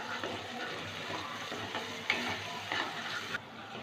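A paste of onion, ginger, garlic and green chilli fries in a pan after onions were browned, giving a soft steady sizzle with occasional scraping stirs, close and fairly quiet.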